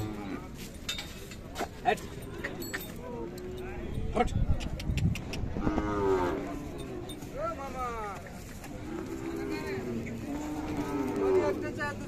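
Khillar cattle lowing a few times at close range at a cattle market in Sangola, mixed with people talking and general farmyard noise.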